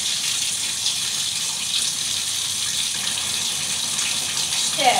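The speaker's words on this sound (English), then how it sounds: "turn on the shower" A shower running at home, a steady hiss of spraying water that stays even and close throughout, with a faint clatter at the very end and no speech.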